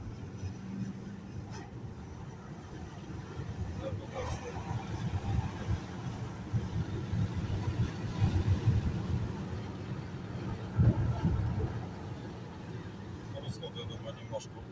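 A Mazda CX-5 2.2 diesel, just after partial fuel-system repair, drives and picks up speed, heard as a steady low engine and road rumble from inside the cabin, fairly quiet, with someone speaking over it.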